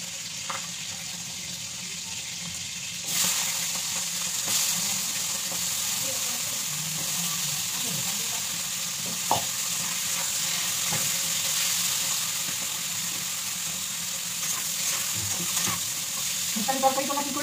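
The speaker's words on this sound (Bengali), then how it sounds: "আমরা তো সব একবারে দিয়ে ভালো করে ভাজবো বন্ধুরা" Vegetables such as pumpkin, eggplant and long beans frying in mustard oil, a steady close sizzle with occasional stirring clinks and a brief tap-water rush near the end.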